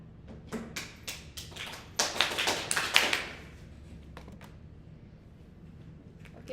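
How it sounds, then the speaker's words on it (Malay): A school class gives applause: scattered sharp claps build into a brief burst, peak, then thin out to a few isolated claps. No one speaks. "Beri tepukan."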